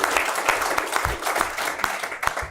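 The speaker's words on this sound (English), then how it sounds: "I think you deserve a round of applause for that" An audience at a boxing press event gives promoter Ben a round of applause, a dense burst of clapping from a crowd, fairly close, lasting throughout.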